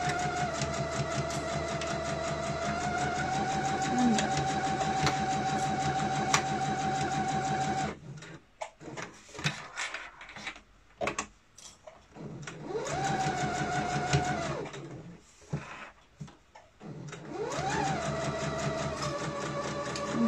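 A domestic sewing machine stitching thick 6 mm layers while making a zippered pouch, a close, steady whirring run of rapid stitches, then short stop-start bursts, and a further run of stitching later on.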